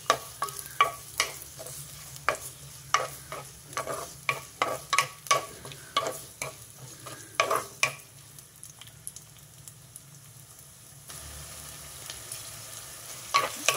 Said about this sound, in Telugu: ఆయిల్ వేడైంది. కట్ చేసి పెట్టుకున్న ఉల్లిపాయలు వేసేసా.